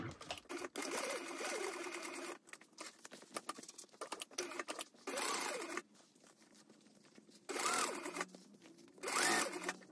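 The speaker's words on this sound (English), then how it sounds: "now I'm gonna go ahead and stitch the open edges closed." Sewing machine stitching the open edges of a handbag closed, running in several bursts of steady rapid patter with brief pauses between runs, no talking.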